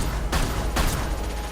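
Two sharp sniper rifle shots in Mass Effect 2, spaced about half a second apart, each a short broadband crack with a brief tail, fairly quiet.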